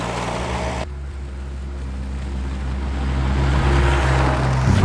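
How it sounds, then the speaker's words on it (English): A pickup truck plows snow, its engine droning steadily up close with a low rumble that swells slightly toward the end, no voices over it. "I'm just gonna plow some snow"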